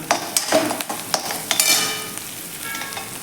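Onion sautéed in a pan with turmeric and fresh coriander is stirred with a utensil, giving close scraping strokes over a steady sizzle, with occasional clinks against the pan.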